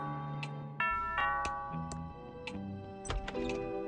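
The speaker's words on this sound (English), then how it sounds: "That sounds like the doorbell." A doorbell in the point-and-click game Thimbleweed Park rings out as a series of bright chiming dings and ticking tones, scattered in an uneven rhythm, clean and moderately quiet.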